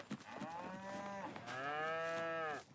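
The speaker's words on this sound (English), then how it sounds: "We have our regular cow, our older cow." A cow in Farming Simulator 22 gives two long, loud, drawn-out moos, the second fuller and slightly longer, heard alone without talk.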